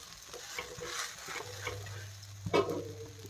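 Bread slices fry in oil and salt in a pan on a home kitchen stove for a sandwich, giving a soft, steady sizzle with light scraping and a brief clatter of utensils near the end.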